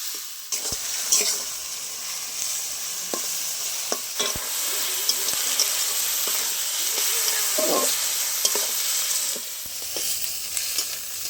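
Onions sizzle and fry steadily in hot oil in a pan, with scraping stirs recurring throughout, part of cooking a kalbasu fish curry; continuous near, moderately loud hiss with occasional spatula knocks.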